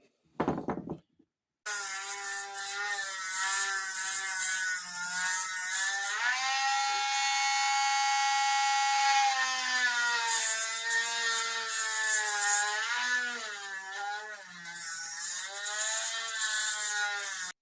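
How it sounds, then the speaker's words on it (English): A high-pitched Dremel rotary tool whines steadily for most of the clip, its pitch dipping and rising as it drills a hole into a metal knife blade, close and loud. "So you can see I've popped a hole in there using the Dremel"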